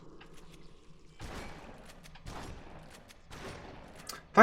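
Gunfire from Halo 2 on Legendary difficulty during Flood combat, heard as three or four scattered bursts of shots at moderate distance over low ambient game noise, ending with a brief sharper sound.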